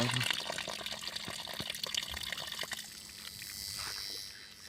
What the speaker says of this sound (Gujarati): તો દોસ્તો પાણી આવી ગયું છે ને હવે મોટર ચાલુ થઈ ગયું છે